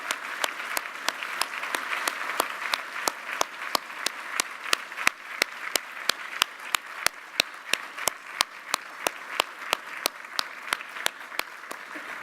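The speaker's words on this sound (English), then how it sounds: "let's give them a warm round of applause" Audience applause for veterans seated at tables during a summit lunch, a steady wash of clapping with some sharp, evenly spaced individual claps standing out, continuing without letup.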